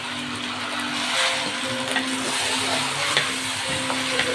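Rice frying in ghee in a home kitchen pan, giving a steady, close sizzle with faint stirring clicks throughout, no talking.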